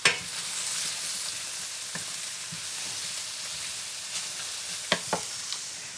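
Onions fry in a pan for beef caldo, giving a steady close sizzle broken by occasional scrapes and taps of a stirring utensil. A sharper knock stands out toward the end.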